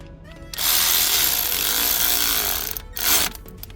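Cordless power driver whirring loudly for about two seconds, then a short second burst, backing out the bottom T20 Torx screw on a Mercedes M276 V6 camshaft sensor.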